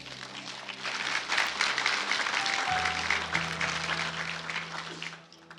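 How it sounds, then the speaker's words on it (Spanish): A church congregation applauds during a Spanish-language sermon, a sustained wash of clapping from a crowd that swells and then fades out, with a low sustained tone underneath. "Denle un aplauso a la iglesia"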